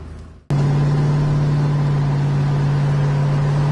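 A 1993 Ford Mustang's engine rumbles steadily and loudly after a short quieter moment, a deep, even drone that holds without revving.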